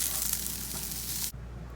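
Onions, carrots and parsley cooking in a pan, a steady close sizzle and hiss that cuts off abruptly after about a second, leaving a low quiet hum.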